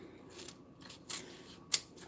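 Scissors snip through a length of ribbon measured for bow making, giving a few faint, short cuts with one sharper snip near the end, heard alone with no talk.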